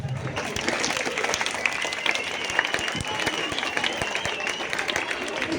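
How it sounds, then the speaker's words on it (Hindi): A large audience at an Independence Day school event applauding steadily, dense clapping filling the whole stretch with a lively crowd murmur mixed in. "एक बार उन बच्चों के लिए तालियां बजाएं जिन्होंने यहाँ पर प्रोग्राम किया है।"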